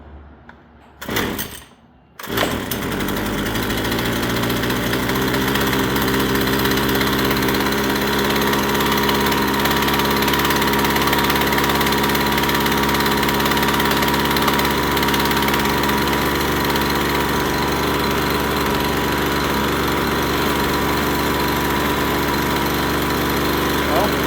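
A two-stroke string trimmer engine fires after a brief stutter and pause, then runs steadily on half choke with a loud, continuous buzzing drone close by.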